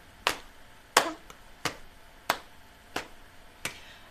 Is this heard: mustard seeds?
no